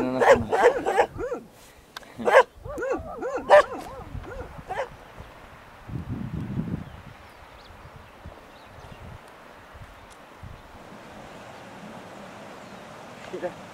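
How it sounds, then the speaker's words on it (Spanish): Dogs in the Cusco countryside, strangers to the visitors, bark and yip in a few sharp bursts early on, mixed with talk, then fade to faint rustling and distant ambience. "los perros que no nos conocen."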